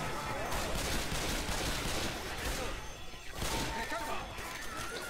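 Dense, continuous gunfire in Left 4 Dead crackles throughout with a short lull in the middle, loud and close, with voices talking faintly underneath.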